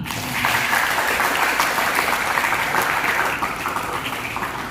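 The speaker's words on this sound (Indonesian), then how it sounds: "Boleh tepuk tangan." Audience applause at an Indonesian community service event, a dense, steady burst of many hands clapping that holds loud throughout and eases slightly near the end.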